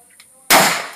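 A single sharp gunshot at a shooting range cracks loudly and close, a sudden blast that decays quickly after a brief quiet lead-in.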